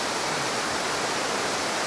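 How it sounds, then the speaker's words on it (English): A waterfall pours into a woodland river, producing a dense, steady roar of white-noise rushing water that is close, even and unbroken, with no voices. "the river going this way and the waterfall dropping into it"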